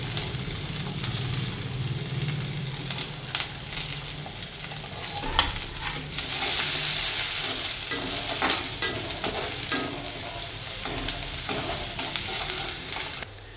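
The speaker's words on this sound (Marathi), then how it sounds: "आता लगेच गाजर टाकून घेते आणि शिमला मिरची पण टाकून घेते" Carrots and capsicum stir-fried in a pan for cauliflower chilli, a steady close sizzle with scraping stirs that grow busier and louder partway through, no voices.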